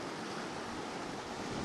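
Sea waves wash around a sailing boat named Freetrader, a steady, loud broadband rush with wind noise on the microphone and no talking.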